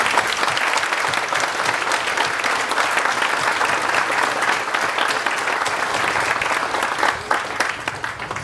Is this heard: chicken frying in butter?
no